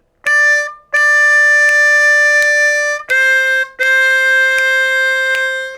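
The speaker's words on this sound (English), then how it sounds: "Lick number 3 is going to sound like this." Lick number three of a twelve-bar blues on a C harmonica rings out loud and close with long sustained reedy notes, a brief break midway, then a held chord, with no voices.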